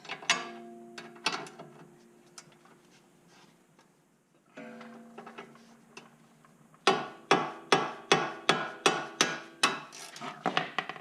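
Wrench work on a sway bar link of a 2017 Ford Fiesta ST, with scattered metallic clicks early on, then a steady run of about a dozen sharp ratcheting clacks, close and fairly loud.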